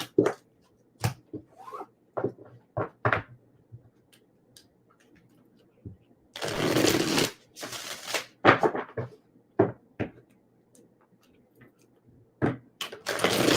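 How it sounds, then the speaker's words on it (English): Tarot cards shuffled in quick bursts of soft flicks and riffles, with a longer dense riffle in the middle, close up in an otherwise quiet room. "I'm just shuffling the cards for you."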